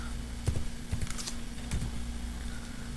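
A few sharp keystrokes on a computer keyboard while a command is typed, isolated clicks spaced irregularly over a steady low electrical hum.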